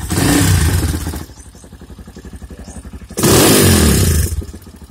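Exhaust note of a Rato Esquire 250 motorcycle, a loud engine burst that drops to a steady low idle chug, then revs loudly again near the end, recorded close with rough low-quality sound.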